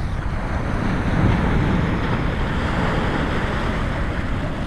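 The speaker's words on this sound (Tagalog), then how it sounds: "lumakas ang alon" Strong sea waves churn steadily, a dense continuous roar of surf mixed with wind buffeting the microphone, loud and close with no voices.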